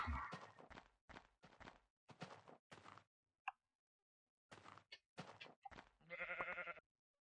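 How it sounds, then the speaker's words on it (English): Sheep in Minecraft bleat in a series of short, separate calls with quiet gaps between them, ending in a longer, louder bleat. "And there's another sheep."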